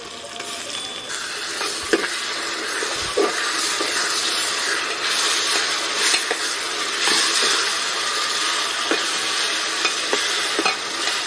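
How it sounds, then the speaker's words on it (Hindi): Onions and ginger-garlic paste frying and being stirred in a pot for a village wedding mutton curry, a steady close sizzle with repeated scraping stir strokes and no talk. "पेस्ट भी भून लेंगे"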